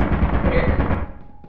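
Automated turret in Lethal Company opening fire, a loud continuous burst of rapid shots for about a second before cutting off into a quiet tail.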